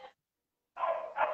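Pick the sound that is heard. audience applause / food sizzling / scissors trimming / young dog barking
young dog barking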